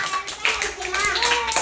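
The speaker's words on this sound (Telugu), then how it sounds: "క్లాస్ చప్పట్లు" A classroom of children claps together after a pupil's answer, a short burst of close hand claps with faint voices underneath.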